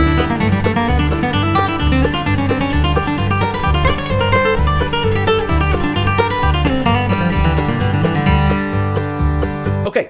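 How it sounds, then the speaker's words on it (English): A fast bluegrass guitar run shifting positions up the neck in G, played at tempo over a full backing track, dense and continuous from start to finish before cutting off abruptly. "let me go ahead and play that monster run up to tempo and with a backing track"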